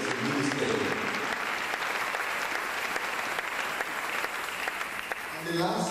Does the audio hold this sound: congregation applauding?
yes